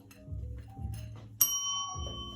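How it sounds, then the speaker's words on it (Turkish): A single bright bell ding rings out clearly and lingers after a few low thumps during the unboxing of a set of juggling balls, with the tone sustaining to the end. "zil nereden çıktı? Zil yoktu."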